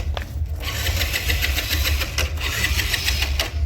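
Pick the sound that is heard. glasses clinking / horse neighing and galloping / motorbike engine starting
motorbike engine starting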